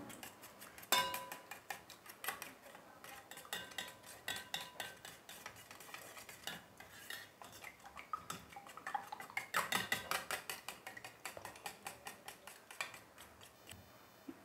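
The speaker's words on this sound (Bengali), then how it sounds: "এবারে ডিমটাকে আমি ভালো মতো ফেটিয়ে নেব।" Egg beaten in a bowl with a utensil makes a quick, steady run of light clinks and taps against the bowl for about fifteen seconds, fairly faint and close, with no talking.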